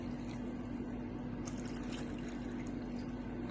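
Chilled water pours steadily into a glass for a mango Frooti drink, a continuous close splashing trickle with a low steady hum underneath and no talk.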